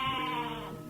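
A lone goat tangled in undergrowth lets out a single drawn-out bleat, loud and close, fading toward the end.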